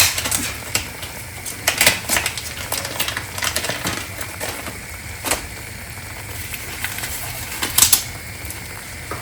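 Semolina being roasted in a pan for suji halwa, with a spoon scraping and clinking against the metal in irregular bursts, some sharper knocks standing out over a steady background rush.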